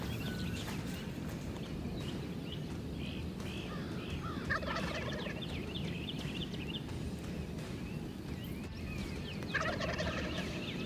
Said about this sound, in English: These birds are getting really fired up.